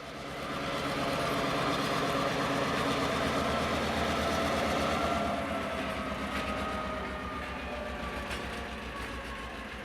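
Norfolk Southern GP38-2 high-hood diesel locomotive 5183 running around its train in Conneaut, Ohio, on a snowy day: a steady, fairly loud engine rumble continues throughout with no talking.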